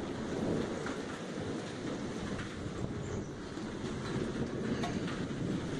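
Steady rain falls outdoors at a woodworking site with low thunder rumbling through it, a continuous dense wash of noise with no voices.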